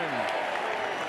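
Crowd of about 3,500 at an SANFL football match between Port and Glenelg roars and applauds in a steady, broad wash of noise heard from a distance, with no clear individual voices.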